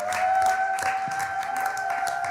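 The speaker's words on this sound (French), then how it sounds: "est-ce qu'on peut l'encourager avec nos acclamations?" An audience claps and cheers in encouragement for a speaker about to give a testimony, moderately loud, with a steady tone running underneath.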